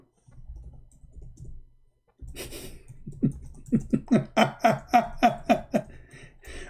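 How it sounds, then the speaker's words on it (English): Rapid clicking of computer keyboard keys, sharp and close, typing in Arabic, starts after a low background hum and builds into a steady run of distinct loud keystrokes, with no talking over it. "Hold on, I'm typing in Arabic."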